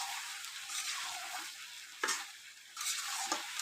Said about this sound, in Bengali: এই যে গোছাই নিছি, মাংস রান্না হচ্ছে